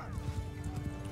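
A horse in Mount and Blade 2: Bannerlord snorts and whinnies while its hooves thud in a quick irregular rhythm, close and fairly quiet, with a sustained tonal whine under the hoofbeats.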